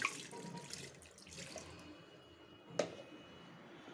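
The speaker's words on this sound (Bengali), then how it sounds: "এখন একটু পানি দিয়ে এটা প্রেশার কুকারে ছিটিয়ে দিই" Quiet wet splashes and a few drips as water is sprinkled into a pressure cooker, with one sharper spatter near the end; soft and close.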